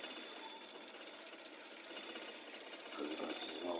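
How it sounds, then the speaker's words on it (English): Suzuki K6A engine misfiring with one fuel nozzle not working, idling with a steady, uneven buzzy running sound that grows slightly louder near the end. "As you can see, the sound of this engine is not okay. You see the misfiring."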